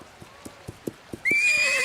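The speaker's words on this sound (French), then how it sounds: "un cheval sauvage" A wild horse's hooves clip-clop in a quick, regular galloping rhythm, then a loud, high whinny breaks out at the end, close and clear in an animated cartoon scene.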